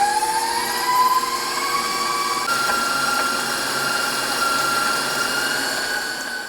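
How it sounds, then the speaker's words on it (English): Stand mixer with a whisk attachment beating sugar and brown butter for cookie dough, a steady motor whine with a tone that shifts upward midway, moderately loud and continuous, no talk. "I'm actually gonna whisk with my whisk attachment, my sugar and my butter, and then my eggs"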